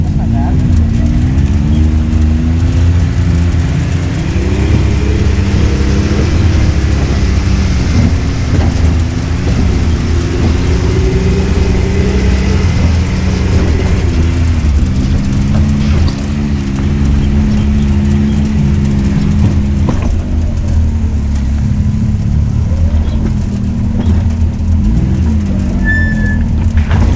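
UTV fitted with 6-inch SuperATV portal gear lifts and 36-inch Outlaw 3 tires, its engine held at a light, steady throttle, a continuous low rumble with slight pitch wobbles throughout, close up, with voices talking over it.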